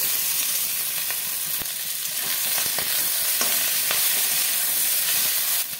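Vegetables coated in turmeric fry in a pan with a dense, continuous sizzle that stays loud and close, dotted with small crackles and a few stirring clicks, and no voices.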